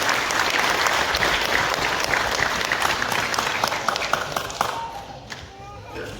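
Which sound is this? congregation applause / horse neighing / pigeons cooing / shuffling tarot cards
congregation applause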